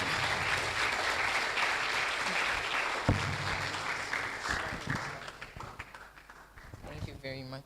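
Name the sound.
audience applause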